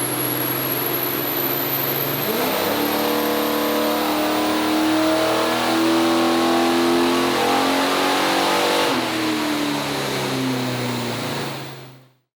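Engine of a 1968 Camaro roaring on a dyno during a full pull, loud and close, the tone climbing steadily through the revs before cutting off abruptly at the end.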